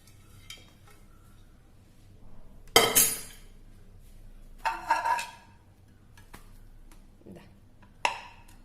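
Dishes and glassware clink as a kalthappam, a Kerala cake, is moved onto a plate with a spoon: a few sharp, separated clatters and scrapes, close and fairly quiet, with hushed pauses between.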